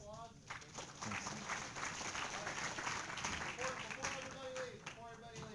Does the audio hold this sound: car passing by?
no